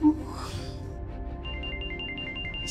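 A phone rings in a repeating electronic pattern of short high tones, heard at moderate level in an indoor room with a faint voice and background murmur underneath.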